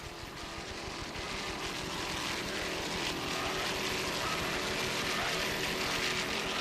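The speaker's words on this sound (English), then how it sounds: "Powered by two 200 horsepower Mercury outboards." An offshore racing powerboat with two 200-horsepower Mercury outboard engines roars past during the 1996 APBA Key West World Championship race, a continuous loud, broad engine drone that swells slightly as it goes on.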